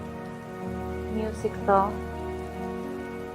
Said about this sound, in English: Oh, the raindrops on the camera.